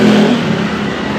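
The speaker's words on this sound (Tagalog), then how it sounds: "Napakaraming dumadaan dito, yung mga motor," Steady, loud engine roar from motorcycles with noisy exhausts passing close by near a bridge, a continuous rumbling drone filling the whole moment without pause.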